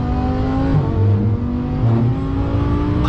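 A drag car engine drones loudly and steadily nearby, a rough sustained roar with slight rhythmic pulsing as it passes.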